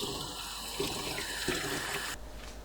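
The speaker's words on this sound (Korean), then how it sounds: "맑은 물이 나올 때까지 3-4번 흐르는 물로 헹궈주세요." Raw oysters are rinsed under running tap water in a kitchen, a steady close hiss of flowing water with a few soft clinks and splashes before the stream cuts off.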